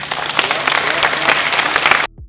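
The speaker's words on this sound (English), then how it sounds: "Clap 3 times." An audience bursts into dense, loud applause at a basketball event, a thick continuous roar of clapping that cuts off abruptly near the end.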